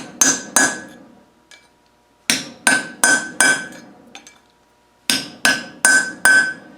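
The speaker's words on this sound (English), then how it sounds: "When you hear it go ring nice like that, you know they're down." Sharp metallic taps with a ringing tone as parts are driven down into a Land Rover 200Tdi cylinder head with a socket, struck in quick groups of two to four blows separated by pauses, close and clear.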